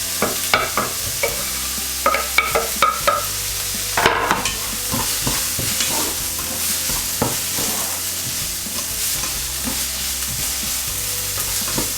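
Onions with ginger and garlic frying in oil, a dense continuous sizzle with a cluster of spoon scrapes and clanks early on, then steady hissing, close and without speech.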